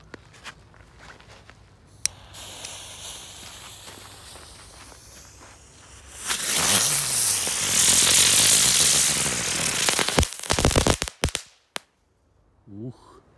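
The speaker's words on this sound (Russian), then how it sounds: "сначала для разогрева взорвем вот такую вот розу Grand Bloom Flower от Максим. Это у нас роза с треском." A Maxsem Grand Bloom Flower crackling rose firework goes off outdoors, a loud sustained spinning hiss and crackle lasting several seconds, then sputtering pops fading out, with faint handling noise before it starts.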